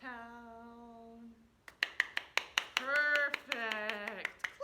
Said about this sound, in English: Clap your blocks together.